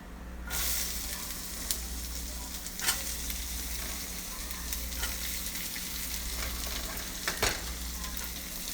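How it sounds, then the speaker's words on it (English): Chopped onion sizzling in hot oil in a pan while cooking chana masala gravy, a steady close frying hiss with occasional stirring clatters and brief pops throughout. "Now I'm going to add my onion."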